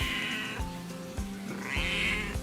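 Cats at a cat shelter, meowing and caterwauling in long drawn-out wails, two prominent calls close by over a steady background hum.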